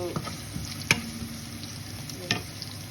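Garlic paste sautéing lightly in a hot pan, a steady soft sizzle with a few sharper stirring scrapes and clinks standing out near the start and end.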